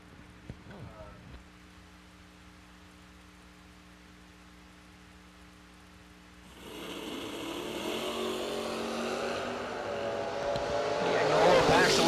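A 1979 Malibu drag car roars off the line at a drag strip, its engine rising from a quiet idle hum into a loud, swelling distant rush that builds toward the end, with commentary underneath.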